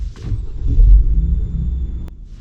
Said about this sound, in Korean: 가스불은 지금 이거는 가솔린으로 시동이 걸린 겁니다.